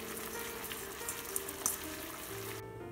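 Chopped ingredient dropped into a hot pan for a shrimp dish, frying with a steady soft sizzle and a few small crackles and pops, fairly quiet and without voices.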